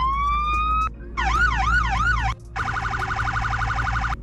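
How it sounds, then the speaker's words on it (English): A video game police car siren cycles through several patterns: a rising wail, a fast warbling yelp, then a rapid pulsing tone, loud and steady over a low engine hum. "your sirens"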